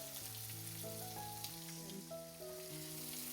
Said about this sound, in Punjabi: ਗਰਮ ਤੇਲ ਦੇ ਵਿੱਚ ਆਪਾਂ ਪਾਵਾਂਗੇ ਇੱਕ ਛੋਟਾ ਚਮਚ ਜੀਰਾ ਜੀਰਾ ਜਦੋਂ ਚੰਗੀ ਤਰ੍ਹਾਂ ਤੜਕਿਆ ਜਾਏਗਾ